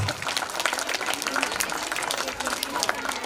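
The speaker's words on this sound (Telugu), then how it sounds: "ఒకసారి అందరూ గట్టిగా క్లాప్స్ కొట్టండి మేడం" Audience applause at a school event, a dense patter of clapping heard throughout while a voice speaks over it.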